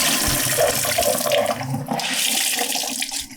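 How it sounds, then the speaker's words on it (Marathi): Steady tap water runs and splashes for a few seconds, a continuous close-up rush with slight shifts as a cloth is held under it to wet it. "कपडा असा ओला करून घ्यायचा"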